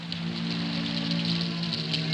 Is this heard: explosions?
no